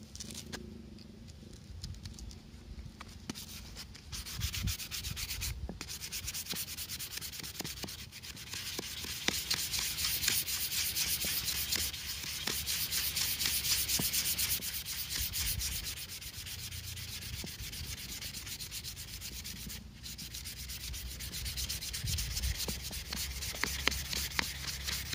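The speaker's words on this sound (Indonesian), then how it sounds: "selanjutnya kita memakai dengan grid 180 dengan tujuan untuk menghilangkan bekas goresan-goresan daripada grid 100" A machete handle being sanded by hand with 180 grit sandpaper, a steady close rasping rub that runs on and on with brief breaks and no talking.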